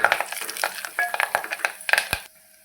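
Curry leaves, five to seven of them, are added to hot oil while cooking, producing a series of sharp crackles and spits close by, bursts clustered over a couple of seconds before quieting abruptly.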